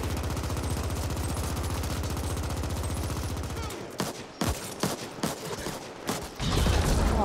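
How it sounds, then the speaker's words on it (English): Bursts of gunfire at an enemy in the video game The Ascent: a steady rapid stream of shots for several seconds, then a break and a series of separate loud blasts, all fairly close. "Oh, there's a guy in here. I'm going to shoot him."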